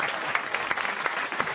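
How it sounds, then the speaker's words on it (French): A man claps for himself after a pun on a French radio comedy panel show; brisk rapid clapping with a few sharper slaps, close and fairly loud, with other sounds faintly mixed underneath. "Il s'est auto-applaudi après son jeu de mots"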